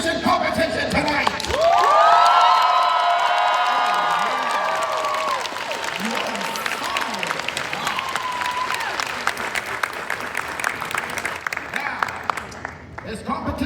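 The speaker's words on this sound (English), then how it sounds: "Please clap loud, cheer loud, show them the love for having qualified here for this magnificent competition tonight." A live crowd at a cosplay competition grand final erupts into loud, sustained applause and cheering with whoops for the finalists, swelling early and then tapering into steady clapping over a hall-like background.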